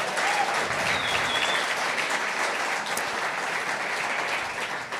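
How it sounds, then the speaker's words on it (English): A crowd at a Central Oregon pub talk gives a round of applause, a sustained, even roar of clapping from many hands that carries on without letup and eases slightly at the end. "How about a round of applause for these two?"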